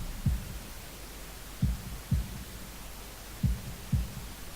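Heartbeat sound effect from the Katawa Shoujo visual novel, low thumping beats in lub-dub pairs repeating slowly over a soft hum, with no speech.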